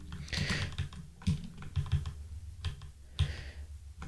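Someone types in Vim on a computer keyboard, producing close, quick bursts of clacking keystrokes in uneven clusters.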